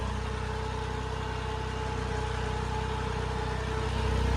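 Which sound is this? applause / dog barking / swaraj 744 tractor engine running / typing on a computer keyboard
swaraj 744 tractor engine running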